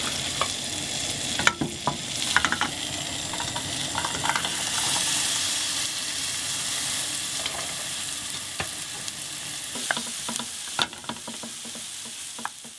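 Onions sizzling steadily in melted butter in a pan for butternut squash risotto, with occasional spoon scrapes and stirring clicks over a continuous frying hiss, close and moderately loud, no talking.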